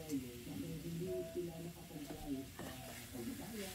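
Spare ribs and vegetables in a stir-fry, stirred in a pan under a steady, quiet sizzle, with soft scraping strokes of the utensil repeating every half second or so throughout.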